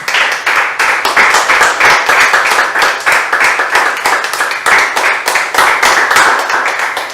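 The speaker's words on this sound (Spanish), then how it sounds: "Y le da un aplauso al Señor." A church congregation claps together at a Spanish-language service, a steady burst of close, loud rhythmic hand claps that carries on evenly for the whole stretch with no talking over it.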